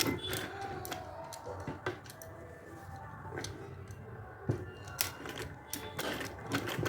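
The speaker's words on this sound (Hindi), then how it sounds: "अब इन दोनों कोनों को इस तरह से पकड़ते हुए मैं सिल दूंगी।" Sewing machine stitching the corners of a handkerchief purse, a close steady mechanical whirring and ticking with brief pauses and occasional clicks as the fabric is handled.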